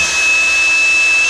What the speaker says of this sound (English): I'll drill those holes and we'll come right back